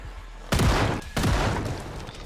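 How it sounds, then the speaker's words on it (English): Two loud gunshot blasts fired at a small zombie horde in the survival game Project Zomboid, about half a second apart, each booming and then fading over a steady low background. "I foolishly start firing off shots into this little horde"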